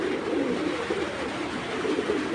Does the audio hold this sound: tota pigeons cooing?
yes